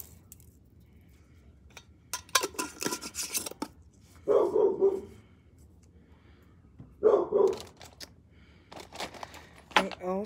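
A dog barks twice, the two short, muffled woofs a few seconds apart, amid a person's nearby talking and some rustling.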